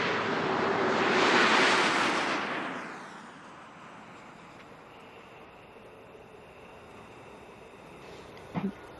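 A Space Shuttle orbiter lands on a runway: a loud, broad rushing roar swells and then fades into a steady distant rumble, with a brief double thump near the end and no voices.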